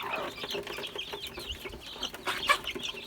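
Several chickens cluck and squawk close by in a lively, overlapping run, with a sharper burst near the end, while a flock of hens squabbles among themselves.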